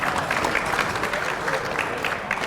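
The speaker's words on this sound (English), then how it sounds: "A round of applause for Irene tonight," Dense applause from the audience at an Australian football league medal presentation night, steady and close, with a crowd murmur blended in throughout.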